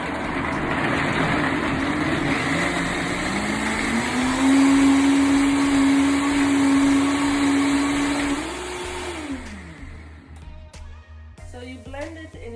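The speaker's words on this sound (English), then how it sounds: "So you blend it in your blender for about 40 seconds" Kitchen blender whirring through almonds and cold water for almond milk, a loud steady motor drone that rises in pitch partway through, then spins down and cuts off near the end, leaving faint clatter.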